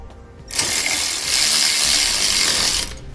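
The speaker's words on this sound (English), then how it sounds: "on the opposite side, we can reinstall that self-tapping screw" A ratchet driving a self-tapping screw into an Air Lift LoadLifter 5000 helper spring bracket on a 2017 Ford, one loud, steady, close ratcheting run lasting a couple of seconds before stopping.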